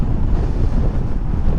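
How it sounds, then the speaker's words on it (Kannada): Strong coastal wind at Dhanushkodi buffets the microphone in a loud, continuous low roar with no pauses. "ಈ ಗಾಳಿ ತುಂಬ ಹೊಡಿತಿದೆ ಅಲ್ಲ"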